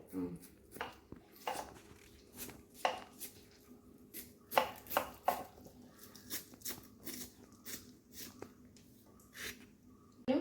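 A knife chops taro (cheera chembu) leaves on a board in an irregular series of sharp, close taps with short pauses between bursts. A quiet voice speaks in the background.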